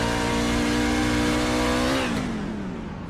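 Onboard engine of a racing truck at Richmond, a loud steady high drone that drops in pitch and eases off toward the end as the clutch goes in and the truck coasts into a corner.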